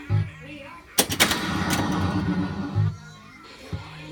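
A 1983 Bally Grand Slam pinball machine with faulty sound gives low thumping tones, then a sudden loud burst of harsh crackling noise that fades back to low thuds; a voice speaks faintly underneath.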